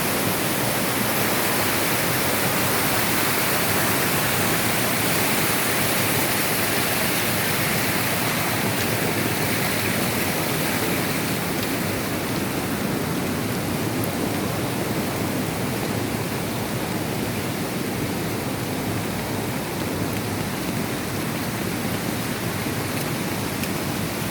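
Heavy rain and flooding, a loud, dense, unbroken roar of downpour and rushing water filling the whole stretch, with no talking.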